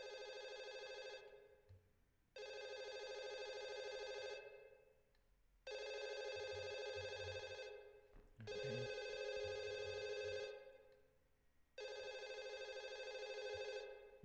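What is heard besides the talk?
telephone ringing in a spooky video game house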